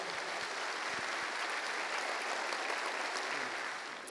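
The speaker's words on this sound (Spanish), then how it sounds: "dale un fuerte aplauso al Señor" A church congregation claps loudly for the Lord, a dense, continuous wash of applause from many hands that carries on evenly and eases off slightly at the end.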